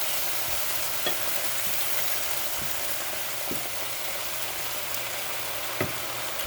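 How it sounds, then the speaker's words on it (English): Dandelion roots cooking in coconut milk give a steady, fairly quiet bubbling sizzle in a pan, dotted with faint scattered pops and occasional light utensil taps. "It's all sizzling here."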